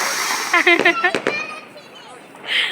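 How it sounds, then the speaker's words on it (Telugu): Sharp firecracker bangs crackle in a quick cluster, with a voice chattering around them and a hiss trailing off at the end. "మా అన్వి చూడండి అన్నయ్య వేల్చిండు కదా నేను కూడా వేలుస్తా అని చెప్పేసి తను కూడా వేలుస్తుంది"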